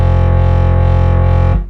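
A tweaked Reaktor Blocks synthesizer preset holds a loud, buzzing distorted tone with rich harmonics and a slow pulsing wobble, sustained for over a second and a half before abruptly cutting off.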